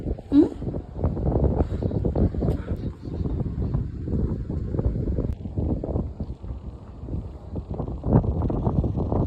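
Strong wind buffets the microphone outdoors in a continuous, gusty low roar that rises and falls throughout, with no talking.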